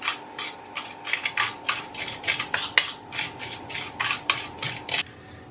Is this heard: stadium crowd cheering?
no